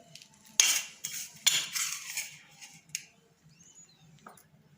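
A metal spoon clinks and scrapes against a bowl while about two spoonfuls of an ingredient go into a pigeon feed mix, a few close taps and rattles fading toward the end.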